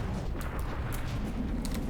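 Heavy CRAM cannons in the From the Depths naval battle game fire repeatedly in a dense, rumbling barrage, with booms that overlap into a continuous roar.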